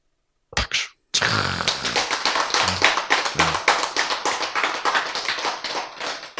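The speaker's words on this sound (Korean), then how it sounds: "박수!" A congregation claps in steady rhythmic unison at a Korean church Bible lecture, loud and close, with a brief burst before the main run of evenly spaced claps.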